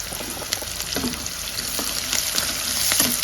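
Green chilli pieces, turmeric and fresh curry leaves hit a hot pan with oil, setting off a loud, close, steady sizzle with sharp crackles and spits that build slightly over the few seconds.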